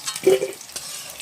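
Taro (kachu) being stirred and fried in a pan as part of a chicken dish, giving a soft, close scraping stir and a light sizzle for a brief moment, with no talking.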